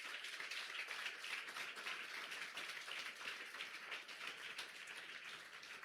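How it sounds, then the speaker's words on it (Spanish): A church congregation applauds during a Spanish-language Sunday school service, steady dense clapping that stays fairly quiet and distant throughout, with no voices over it. "Dale fuerte el aplauso al Señor"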